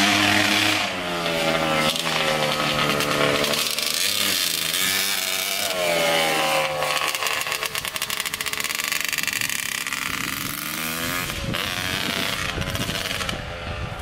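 A Kawasaki Tecate 250cc two-stroke motorcycle engine, loud and close, revving hard with rising and falling buzzy pitch sweeps and a brief drop toward idle, sustained the whole time.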